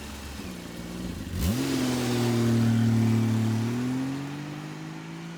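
A Skoda Yeti's engine revs up from low and climbs in pitch as the car accelerates, holding a steady droning tone for a few seconds before easing off, fairly close and with no talk.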